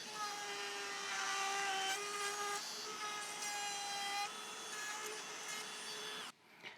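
Steady sawing through wood while cutting a channel in a wooden finger joint jig, a continuous rasping stroke with a faint whining tone running for several seconds before stopping abruptly.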